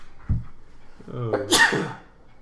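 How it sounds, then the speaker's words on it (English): A single sharp allergy sneeze bursts out close to the microphone, preceded by a brief quick inhale, then fades into quiet breathing. "Excuse me for all my sneezing and nose blowing."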